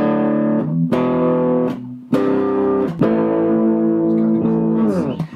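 Bass guitar played through a COG Effects Knightfall distortion pedal, its crunchy gain boost sustaining a few separate held notes and chords in turn, loud and close with no voice.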